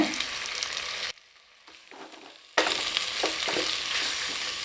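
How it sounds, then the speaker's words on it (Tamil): Steady sizzling of tomatoes frying in a pan, with stirring scrapes; the sizzle briefly drops away, then returns at full strength. "தக்காளியை இப்போ நல்லா வதக்கி விட்டுக்கலாங்க"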